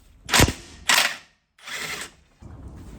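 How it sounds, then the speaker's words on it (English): A ratchet loosening subframe bolts on a Mini Cooper S R53 makes close, loud bursts of rapid clicking, three or four quick strokes separated by short pauses. "I'm just going to release some more bolts on the subframe"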